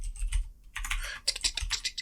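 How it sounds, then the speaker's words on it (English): Rapid, uneven clatter of keys being typed on a computer keyboard, close and fairly quiet, coming in short bursts with brief pauses between them. "I'm gonna have to make a bunch of typing noise."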